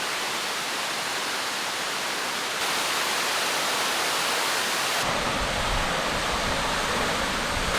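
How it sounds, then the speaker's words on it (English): A large waterfall at The Cells State Conservation Area near Port Macquarie, with a big drop into a pool: a broad, steady rushing roar of falling water that turns heavier and fuller partway through. "Such a beautiful waterfall here"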